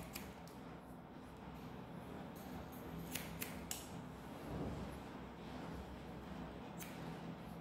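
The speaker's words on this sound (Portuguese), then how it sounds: "Vou direcionar ela na vertical e vou cortar." Scissors cutting hair during a traditional men's haircut with a quiff, giving a few sharp, crisp snips spaced apart, close by and quiet over a soft background hiss.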